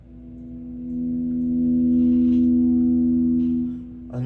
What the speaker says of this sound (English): let's hear a couple of the cleaner tones first